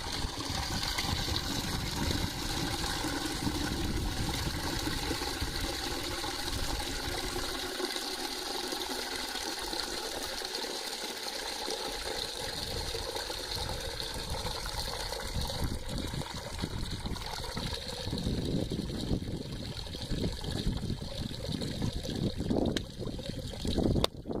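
Used dish water drains through a hay filter outdoors, giving a steady close trickling and splashing wash that continues throughout with small fluctuations.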